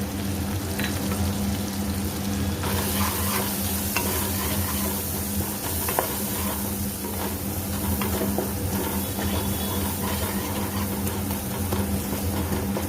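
Ground spices sizzle and fry in a pan for a pabda fish chorchori, with a spoon stirring and scraping through the mixture under a constant, close, crackling hiss.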